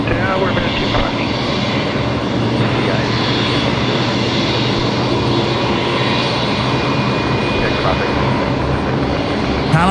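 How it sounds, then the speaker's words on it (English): A Boeing 737-700 jet sits just after pushback at Brisbane Airport, giving a steady, loud broadband engine roar and whine that runs unbroken throughout, with speech likely mixed in. "737-700 there, just pushed back in front of me."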